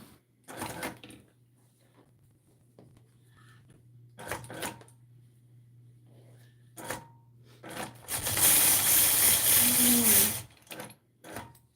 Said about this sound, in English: Hold on, I'm gonna do a little test quilting.